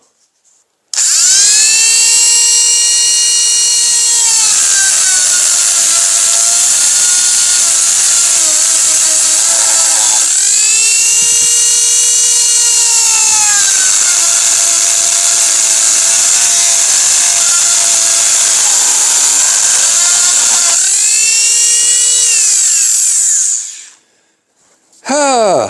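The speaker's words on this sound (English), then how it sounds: "I'm just going to bury the Dremel in the seams there" A Dremel rotary tool whines loudly and close up as it plunges into the seams of an old wooden cheese box to sever the nails, its pitch dipping under load in three long cutting passes before cutting out.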